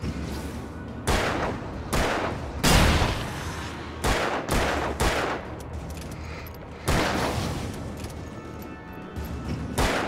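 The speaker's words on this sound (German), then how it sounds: "Komm, schieß auf das beschissene Fass da!" Revolver gunfire in the video game Alan Wake, aimed at a barrel in a ghost-train-station level: a string of loud, sharp gunshots at irregular intervals over about ten seconds, each a sudden blast with a short tail.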